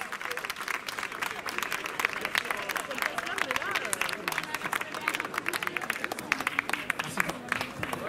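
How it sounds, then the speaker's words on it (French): Audience applause for a slam poet at a rally, steady dense clapping from a crowd filling the whole stretch, with cheering and babble mixed in. "applaudissez encore, Slomondo"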